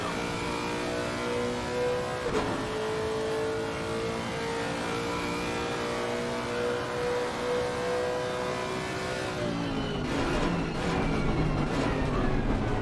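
A GT3 race car engine howls steadily at Zandvoort during a sim racing broadcast, holding a high, sustained note with a brief pitch dip and then shifting through gears near the end, loud and continuous without talk.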